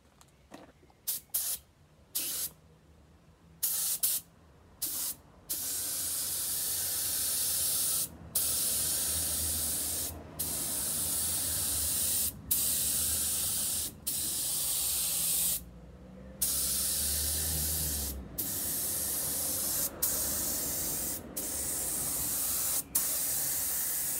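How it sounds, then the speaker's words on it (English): Spray gun laying clear coat onto a car, a steady loud hiss in long bursts broken by short pauses, with quicker stop-start trigger pulls at the beginning. "the clear coat is now ready to go on, and we'll just see what happens"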